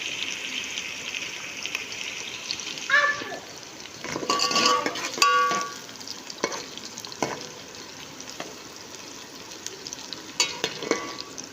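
Onions frying in a pot for chicken pulao, a steady soft sizzle with occasional scraping stirs and clinks of a spoon, close and unhurried, without talk.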